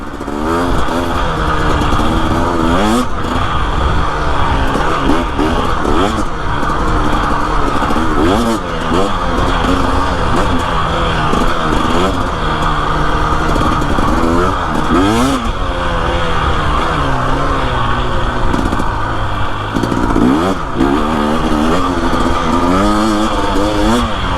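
A 2025 Husqvarna TE 250 dirt bike fitted with an FMF exhaust and TSP tune revs hard and pulls up through the range to over-rev, a loud, close, continuous rasping two-stroke wail rising and falling with throttle.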